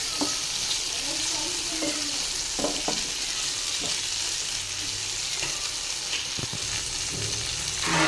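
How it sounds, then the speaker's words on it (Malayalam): Beetroot, onion, green chilli and tomato sauté in coconut oil, giving a steady close sizzle throughout with occasional scrapes and stirs of a utensil. "എന്നിട്ട് ഇത് നല്ലോണം വെളിച്ചെണ്ണയിൽ വാട്ടിയെടുക്കുക"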